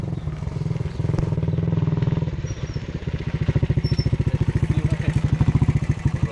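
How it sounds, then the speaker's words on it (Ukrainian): A motorcycle with a loud, nearly straight-pipe exhaust idles nearby, then revs into a rapid, throbbing, pulsing rumble that grows stronger and more staccato. "Майже прямий вихлоп, він собі так зробив."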